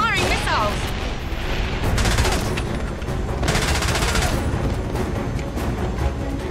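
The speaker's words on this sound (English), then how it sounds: "James, he's firing missiles." Missiles fire in the James Bond 007: Blood Stone video game: loud, repeated explosive blasts and rattling bursts over a dense, continuous roar of combat noise that never drops away.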